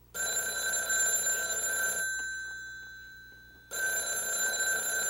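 Telephone ringing with a loud bright electric bell, two long rings separated by a short pause, close and alone with no talk.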